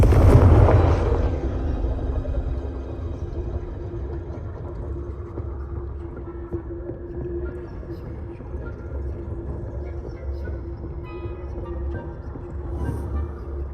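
A Confringo spell from the video game Hogwarts Legacy bursts in a loud, booming explosion at the very start, then trails off into a long, low rumble and steady hum for over ten seconds.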